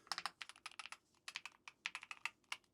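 Fast, uneven keystrokes on a Keychron K10 HE wireless keyboard with uniform-resistance switches, sounding as clicky bursts of typing broken by short pauses, close and clear with no talking.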